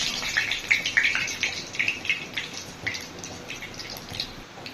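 Dried red chillies are being tempered in hot oil, crackling with quick, irregular pops and spits over a low background hiss, continuing steadily without any talk.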